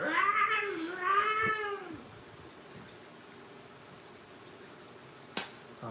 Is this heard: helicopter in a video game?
no